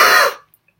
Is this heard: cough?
yes